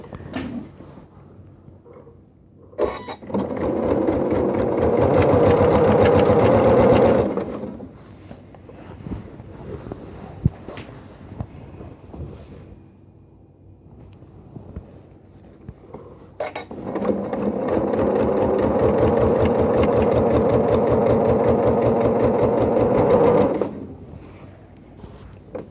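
A sewing machine stitches a quilt-as-you-go block in two distinct runs of steady, rapid needle chatter a few seconds each, separated by a quiet pause with small handling noises, and no talking.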